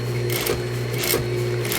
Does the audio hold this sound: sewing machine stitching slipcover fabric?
yes